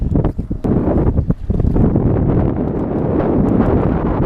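Strong wind buffets the microphone out on Lake Norman during a fishing tournament, a loud, continuous rumbling roar with gusty flutter and no voices.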